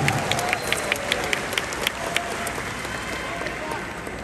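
A large outdoor crowd of volunteers at a political rally in Indonesia applauds and cheers, a steady wash of clapping with sharp individual claps standing out, loud and sustained throughout.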